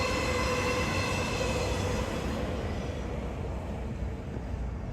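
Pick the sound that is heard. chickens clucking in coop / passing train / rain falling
passing train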